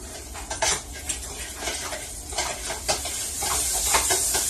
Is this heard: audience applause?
no